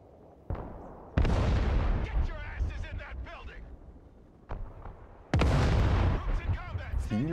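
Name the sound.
artillery fire in Broken Arrow video game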